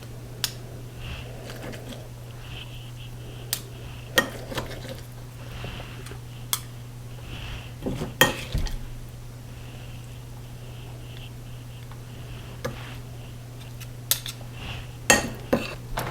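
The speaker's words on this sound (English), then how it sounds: "I'm going to use one to scoop up the topping and the other to slide the mixture off the other spoon" Two teaspoons scoop and scrape a keto casserole topping onto the dish, making scattered light metallic clinks and taps over a low, steady hum.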